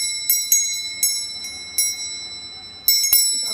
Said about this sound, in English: You got a bell.